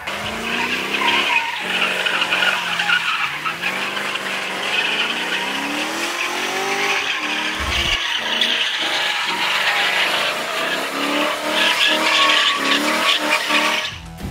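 Drift cars skid with long, loud tire squeals and roaring engines at the 2021 Valley Run drag races in Lonavala, the screeching rising and falling continuously throughout.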